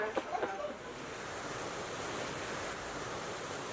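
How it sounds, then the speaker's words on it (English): A small river stream flows past a glamping room in Colombia, giving a steady, soft broadband rush at moderate distance, with a few faint knocks and voice-like sounds near the start. "what you're hearing right now, which is this beautiful little river stream"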